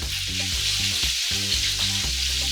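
Chicken pieces frying in hot oil, a loud, steady, dense sizzle and crackle that never lets up, with a low repeating tonal hum running underneath.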